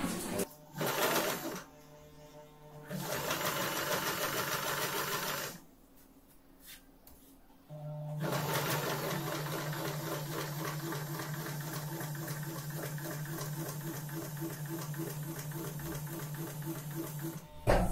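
Sewing machine stitching a straight line, running in short bursts with pauses at first, then a longer steady rhythmic whirring run, close and alone.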